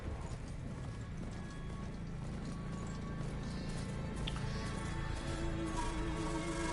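Steady clip-clop of hooves from a ridden horse in the video game Horizon Forbidden West, rhythmic and continuous over a faint ambient background, with no voices.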